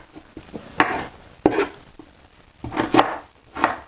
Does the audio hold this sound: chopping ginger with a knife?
yes